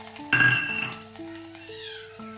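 Cumin, asafoetida and garlic tipped into hot oil give a short, close sizzling burst that fades to a quieter fry under steady background tones.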